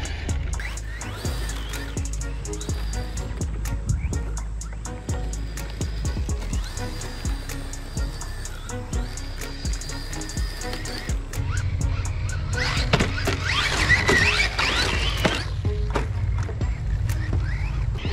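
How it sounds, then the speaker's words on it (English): M-Sport Ford Puma rally RC car driving on dirt, its small electric motor whining and surging close by, with gravelly crunching and scuffs as it blasts around. "Certainly plenty of steering here for just blasting around the dirt."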